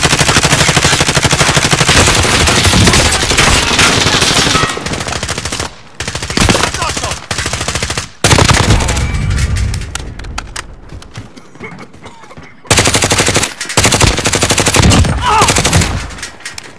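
Loud, rapid machine gun fire rattles in long sustained bursts during a Call of Duty: Modern Warfare Warzone battle royale match, broken by brief pauses and quieter stretches between volleys.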